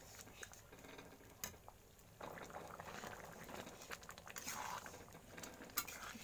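A pot of khichuri made with Gobindobhog rice and moong dal bubbles softly, a faint continuous simmer with small pops and a slightly fuller, livelier burble in the second half.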